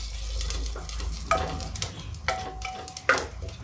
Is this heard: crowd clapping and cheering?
no